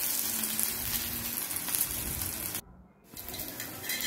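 Dhapate flatbread fries in oil on a pan, a dense close sizzle that cuts out abruptly for a moment before resuming, with a brief spoken word over it.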